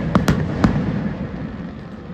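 Firecrackers go off at a crowded politician's wedding near a resort, with a few sharp pops early on followed by a lingering rumble of crowd and distant noise.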